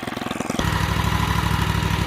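A Bad Boy riding lawn mower's engine sputters for a moment, then catches and settles into a loud, steady running drone close by.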